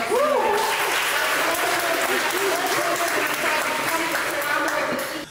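Audience at an Oxford Union debate applauding steadily, a dense sustained wash of clapping that holds at full strength throughout and tapers slightly at the very end, with some voices mixed in.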